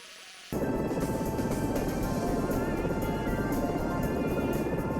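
A helicopter hovers in the rescue flight game Search and Rescue 4, its steady loud rotor and engine drone switching on abruptly after a brief quiet start and holding constant throughout.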